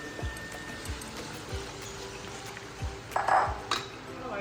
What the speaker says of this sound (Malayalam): സവാള എണ്ണയ്ക്കകത്തോട്ടിടും.